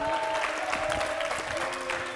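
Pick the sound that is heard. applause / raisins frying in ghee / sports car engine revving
applause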